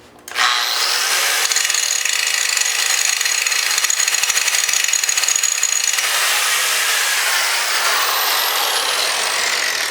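An angle grinder works mild steel continuously at close range, a steady high whine that drops off in pitch and loudness partway through while the spindle winds down, with sparks thrown toward a pile of dry titanium shavings.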